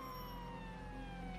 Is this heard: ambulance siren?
yes